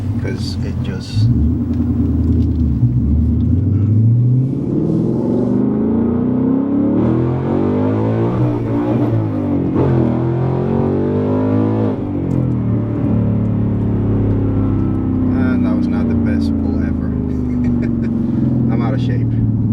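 A 2019 Ford Mustang GT with a six-speed manual transmission revs hard and climbs in pitch through several gears, with brief dips between shifts, loud and close, under a steady road rumble.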